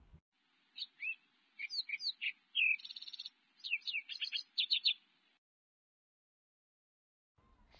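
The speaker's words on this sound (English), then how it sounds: "Sparrow." A sparrow chirps in a quick, lively run of high tweets and short trills, close and clear, lasting about five seconds before falling quiet.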